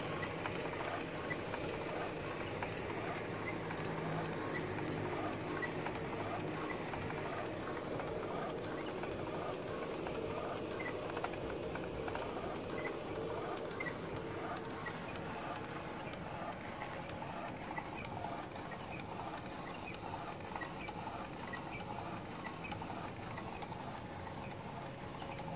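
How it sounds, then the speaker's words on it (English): A DTG direct-to-garment printer running steadily while printing on a white t-shirt, a continuous low mechanical hum with faint regular clicks and carriage whirring throughout, fairly quiet and without talk. "This is the method for printing with white t-shirt."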